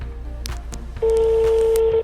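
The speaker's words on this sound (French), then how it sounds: "Le téléphone sonne, espérons qu'il va nous recevoir." A telephone rings out during a call placed live on a televised lottery-draw show: a single steady electronic ring tone holds for about a second over low background murmur.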